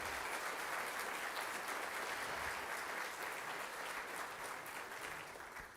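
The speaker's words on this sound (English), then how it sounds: "Give a round of applause" Applause fills a high school band and choir spring concert hall, a dense, even clatter of many hands from the audience that holds steady and tapers slightly at the end.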